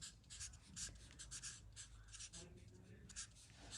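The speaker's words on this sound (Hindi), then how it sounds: "अब जैसे कि उसका यहाँ पर नाम आपको लिखना है।" Pen scratching across paper as a name is written by hand, a run of short strokes close up under a low room hum.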